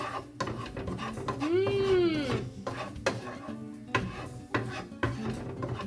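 Basil, salt and sausage being mixed in a bowl: a utensil scrapes and knocks against the dish in an irregular rhythm of clinks and stirs, and there is one brief squeaky tone in the middle. There is no talking.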